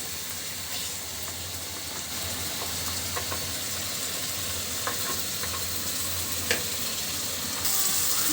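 Masala spices frying and being stirred in a pan for beef curry on a rainy day, a steady sizzle with scattered clicks of the spoon, continuous and close, with no talk.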